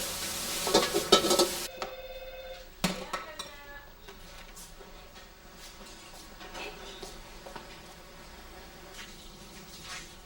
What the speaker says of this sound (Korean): 주로 볶고 튀기는 중국 음식은 기름을 많이 사용한다.